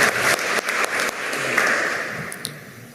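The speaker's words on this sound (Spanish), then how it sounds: "Fuerte los aplausos" A crowd applauds steadily at a formal state ceremony honouring a retired general of the Peruvian National Police, with dense, sustained clapping that fades slightly toward the end.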